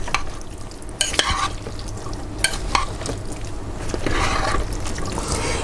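A spoon scrapes and stirs thick chili in a pot, with wet, squelching swirls, occasional clanks against the side, and a steady low hiss throughout.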